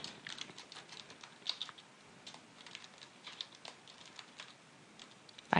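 Someone typing text into a photobook design on a computer keyboard: a quiet, irregular run of light key clicks close by, with a louder clack at the very end and no talking.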